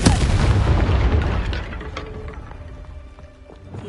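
Confringo fire spell explodes in Hogwarts Legacy on PS5, a loud booming blast with dense low rumble that slowly decays over several seconds into faint crackles and magical tonal tails.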